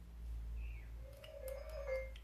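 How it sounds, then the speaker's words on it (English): A telephone rings faintly indoors during a resin art dirty-pour swirl session: a single soft, warbling tone that lasts about a second over a low background hum. "now the phone is ringing"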